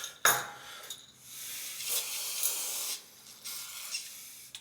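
Aerosol penetrating spray hissing onto snowblower parts in several close bursts: a sharp first spurt, then longer steady sprays with short pauses between them.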